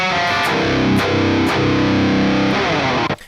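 A heavily distorted metal electric guitar using the GGD Zilla Genty preset plays loud sustained chords with a few sharp accented hits, ringing alone and cutting off abruptly at the end.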